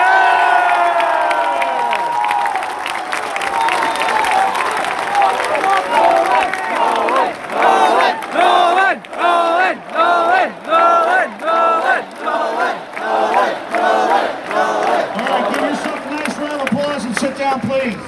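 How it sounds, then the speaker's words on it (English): A lecture-hall audience at a university dating talk breaks into loud clapping and cheering, with shouts rising over the crowd and then settling into rhythmic bursts of applause. "send some energy through clapping his way"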